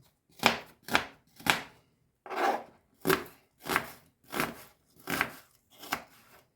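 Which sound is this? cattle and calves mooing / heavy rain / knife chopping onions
knife chopping onions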